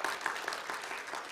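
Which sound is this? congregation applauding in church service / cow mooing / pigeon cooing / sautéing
congregation applauding in church service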